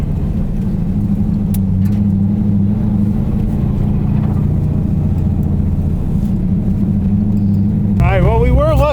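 An LS3-swapped Mazda Miata at a drift competition gives a loud, steady low engine rumble, then climbs into a wavering, rising rev near the end.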